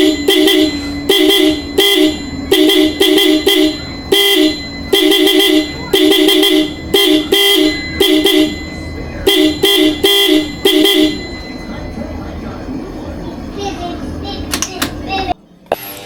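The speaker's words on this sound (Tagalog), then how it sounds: "So ito yung tunog sample ng G-Star na horn" A G-Star compact car horn honks repeatedly in short and longer blasts, loud and close, with children's voices audible in the background and a quieter stretch near the end.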